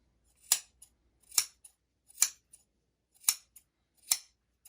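Scissors snip through magic-trick rope five times in a slow, even rhythm, each crisp cut followed by a faint click, close and alone in a quiet room.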